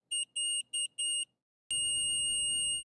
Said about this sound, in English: The pod and PDM get your attention with beeps or a continuous tone.